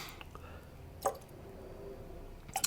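Water drips into a glass of Fiji rum as two distinct, close little plinks, one near the middle and another near the end, over faint room noise.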